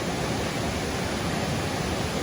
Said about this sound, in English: Beautiful double drop waterfall.